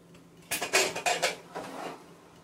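A metal pressure cooker pot, cooled after cooking, is handled close by, with a quick series of clinks and clanks against metal, then a softer rattle before it settles.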